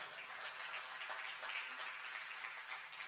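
Faint, steady congregation applause during a Sunday church service, a soft continuous wash of clapping heard from a distance with no speech.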